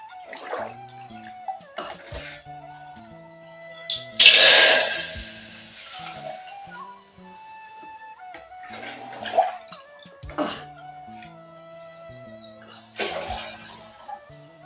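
Water poured into a cooking pot while making a curry, a loud splashing gush in the middle among scattered kitchen clatters and clinks, with quieter intermittent sounds around it.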